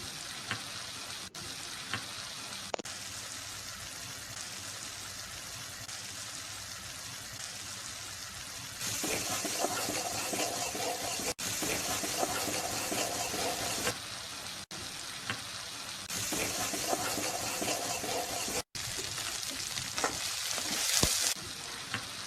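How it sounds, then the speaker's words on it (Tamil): Ground chilli and fennel sautéing with onion and tomato in a hot pan, a steady close sizzle with stirring scrapes that grows louder and brighter partway through, no voices. "இப்போ வந்து அரைச்சி வச்ச மிளகாயும் சோம்பையும் போட்டு பச்சை வாசம் போக நல்லா வதக்கணும்"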